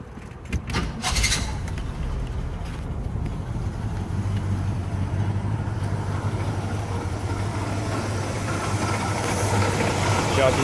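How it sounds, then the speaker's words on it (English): A car engine runs at a steady, low-level idle. Keys or a similar metallic clatter jangle briefly at the start, and then the engine holds an even hum. "Y'all can hear the engines running."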